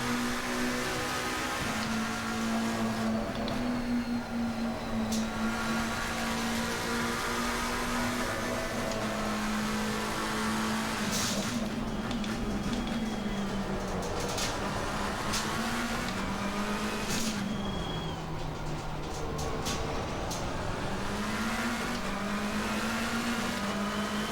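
McLaren 720S EVO GT3 race car lapping Silverstone in Assetto Corsa Competizione, a steady loud engine drone rising and falling through gear changes and corners, heard from onboard across the whole stretch without speech.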